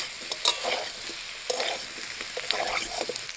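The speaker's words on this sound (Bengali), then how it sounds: "আলু ভাজা হয়ে গেছে" Potatoes fry in a pan, sizzling softly at a distance while a utensil stirs them with scattered scraping clicks.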